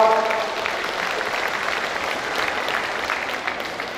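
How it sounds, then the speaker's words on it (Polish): An audience at a youth football awards gala in Poland applauds: dense, continuous clapping that starts strong and carries on steadily at a slightly lower level. "Super, brawa."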